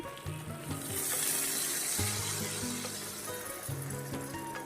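Water poured into a hot pan of frying fresh tilapia fish curry with cumin seasoning, a steady loud sizzle and hiss with bubbling surges, close and continuous with no voices.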